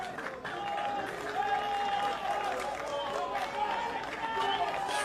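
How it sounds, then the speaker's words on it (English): Applause from a soccer crowd at the UPSL National Championship match for Grandpierre, distant and fairly soft, with tonal whistles or cheers threading through and commentators talking over it. "he deserves a good round of applause"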